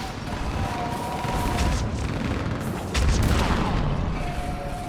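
Booming artillery fire support from a building in Mass Effect 3, heavy distant blasts rolling over a constant battle din, with a louder impact near the end.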